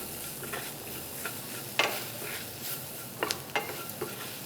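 Onion cooked until clear with a couple of pinches of asafoetida added, sizzling softly in a pan for potato bonda filling, a faint steady crackle with a few brief sharper clicks of stirring.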